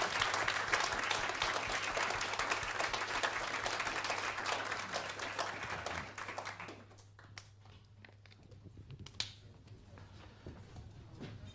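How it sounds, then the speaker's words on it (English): A concert audience applauds after a jazz trio performance at a music lecture event, a dense, loud wash of clapping that thins out after about six seconds into scattered claps and room noise. "And thanks to the audience for coming, and one more round of applause for the amazing concert."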